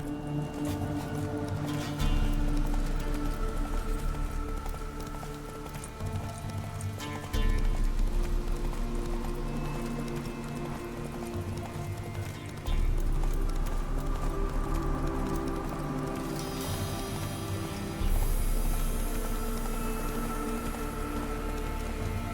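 A horse gallops steadily in The Witcher 3 video game, its hooves pounding in a fast, continuous rhythm, loud and close throughout, layered over a dense game soundscape.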